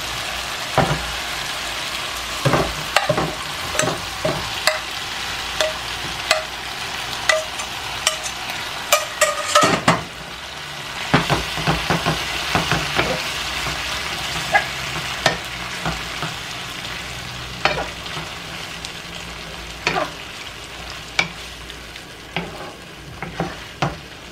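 Chicken for tacos dorados fries in a pan with a dense, steady sizzle, punctuated by repeated sharp scrapes and clacks of stirring, close and loud, with no talking.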